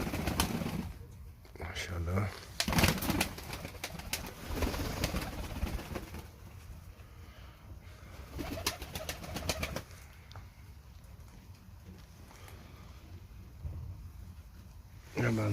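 Pigeons in a loft give low soft coos and rustle their wings, a busy close flock sound running throughout, with someone speaking briefly over them.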